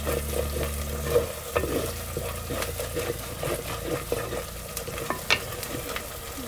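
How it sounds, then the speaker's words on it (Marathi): Garlic stir-fried in a pan for a rustic chicken curry, a steady close sizzle broken by repeated scraping and stirring strokes, with no voices. "पूर्ण लसूण असं कच्चेपणा जाऊसपर्यंत आपल्याला हे परतून घ्यायचं."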